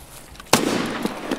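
A single sharp, loud burst of gunfire strikes the player in Escape from Tarkov, then trails off into a short noisy decay. No voices.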